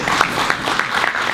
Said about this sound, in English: Can we please give a round of applause?